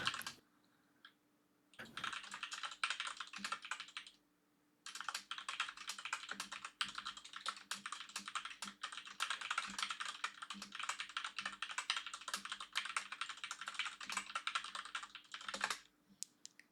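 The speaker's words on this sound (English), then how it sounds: "I gotta get a silent keyboard. I don't think this coming through the mic is ideal." Steady, fast typing clatters on a loud computer keyboard picked up by a nearby microphone, running in long bursts with a couple of short pauses and no talking.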